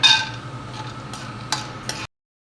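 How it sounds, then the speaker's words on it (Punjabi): Almonds and other dry fruits roast in ghee in a pan, with a soft sizzle under a few scraping stirs of a ladle over two seconds before the sound cuts off abruptly. "ਦੋ ਦੋ ਕੜਛੀ ਘੇ ਪਾ ਕੇ ਤੇ ਆਪਾਂ ਆਪਣੇ ਡਰਾਈ ਫਰੂਟਸ ਨੂੰ ਰੋਸਟ ਕਰਾਂਗੇ"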